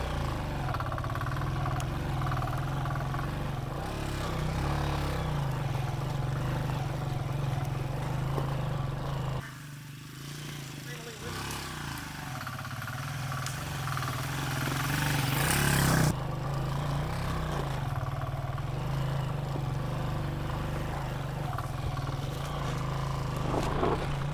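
A Hartford Mini 125 minibike engine runs off-road, a steady mid-pitched hum near idle with a brief dip in level then a slight rise, no voices over it.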